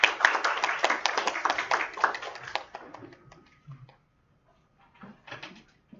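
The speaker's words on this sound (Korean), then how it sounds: "큰 박수 부탁드리겠습니다." Audience applause for a research fellow introduced at an Incheon industry seminar on future vehicles: a small crowd claps briskly for about three seconds, then it thins out to a few scattered claps and quiet room noise.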